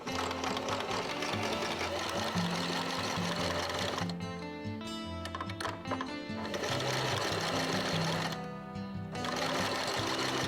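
A sewing machine stitches campervan curtain fabric in a steady close mechanical whir, pausing twice briefly before starting again.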